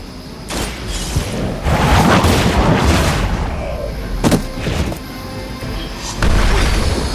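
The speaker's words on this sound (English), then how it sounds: "You grounded the helicopter." Heavy booming crashes and metallic impacts as a helicopter is brought down in the Marvel's Midnight Suns video game, a loud sustained explosion rumble followed by several sharp hits and a final blast.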